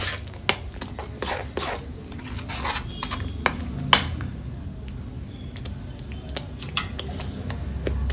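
A metal spoon clinks and scrapes against a pan while spices are mixed into an egg curry masala, with scattered sharp taps over a low frying sizzle and no speech.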